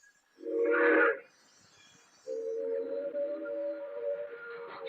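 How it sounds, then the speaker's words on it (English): An express train roars past in an old-time radio drama sound effect: a brief loud whistle blast, then a sustained steady rumble with a lingering whistle tone, alone and fairly near. "An express train roaring by."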